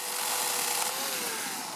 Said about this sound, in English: Dale used his chainsaw to create a flat surface.